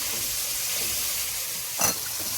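Seafood for a linguine stir fry sizzles steadily in a hot pan, a dense close hiss with a brief louder flare of crackling partway through, no voices.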